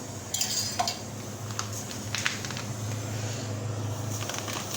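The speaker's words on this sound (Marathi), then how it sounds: "आता मी रवा भाजून घेते आणि रवा भाजताना मी ना थोडं थोडं तेल टाकते आणि मग भाजते" Semolina roasts with a little oil in a pan while a spoon keeps stirring and scraping against the metal, with a soft steady sizzle underneath and no one speaking.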